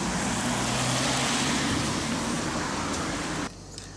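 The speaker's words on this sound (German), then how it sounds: "Oh, es regnet." Steady rain falls in a dense broadband hiss, loud and continuous for several seconds before suddenly dropping to a quieter patter near the end.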